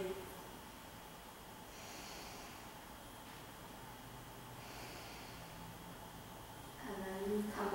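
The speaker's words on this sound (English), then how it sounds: "And deeply breathe." Slow, deep breaths during a yoga stretch, two faint airy inhales and exhales spaced several seconds apart over quiet background hiss, with a brief voice near the end.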